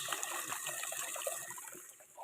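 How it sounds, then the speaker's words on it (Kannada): Fresh water trickles and splashes steadily from a pipe into a cattle drinking trough on a farm, a continuous close, bubbling flow throughout. "ಇಲ್ಲಿಂದ ನೀರು ಬರುತ್ತೆ."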